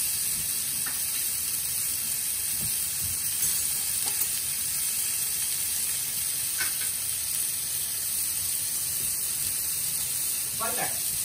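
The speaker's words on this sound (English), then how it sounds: "That means the fish is cooking nicely." Monkfish fillets frying in a pan, giving a steady broadband sizzle from start to finish, with a few soft clinks and stirring sounds rising briefly above it.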